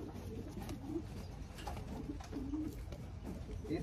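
Racing pigeons coo softly and close by, with a few low rolling calls repeating over a quiet, steady background hum.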